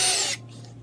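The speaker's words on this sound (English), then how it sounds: "And just let the drill get there." A power drill drilling into a plastic ice chest whirs loudly for a moment, then cuts off abruptly, leaving near silence.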